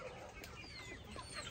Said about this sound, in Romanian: Sunt în mijlocul găinușelor maranz.